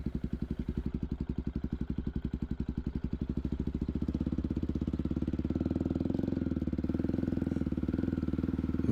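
A Honda XR motorcycle engine idles on an offroad trail, a steady close chugging pulse that grows louder and rougher midway as the revs rise slightly, with no voices over it.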